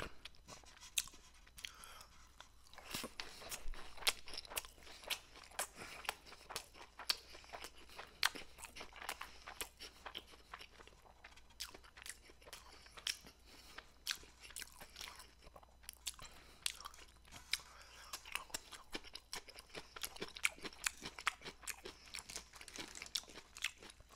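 Close, quiet crunching and chewing of a crunchy sushi roll, with dense rapid crackling bites and mastication continuing throughout.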